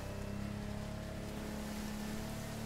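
The engine of a Lamborghini boat in The Crew Motorfest video game drones loud and steady with a low, buzzing hum. Water rushes underneath in a constant wash.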